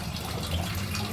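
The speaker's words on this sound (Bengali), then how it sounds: "এখন জল পড়ছে, ওই আওয়াজ করছি" Steady running water from a household tap in a home kitchen, a continuous rushing flow that is fairly close and even throughout, with no voices.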